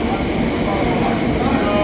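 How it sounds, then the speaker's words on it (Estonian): A train runs straight past a station without stopping, a steady loud rumble that holds for the whole stretch. "kui sa ootad rongi ja tuleb rong, mis on autoservice ja sõidab lihtsalt mööda"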